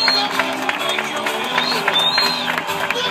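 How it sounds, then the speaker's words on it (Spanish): A crowd applauds and cheers steadily at a boxing weigh-in ceremony, with a lively wash of clapping and occasional whoops throughout, while an announcer's amplified voice carries over the noise. "El aplauso a la tailandesa, señores"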